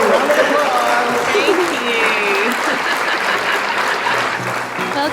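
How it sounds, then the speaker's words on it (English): An audience applauds for an author's guest appearance, a dense, steady clapping that holds loud throughout, with a voice speaking briefly over it. "All right, round of applause."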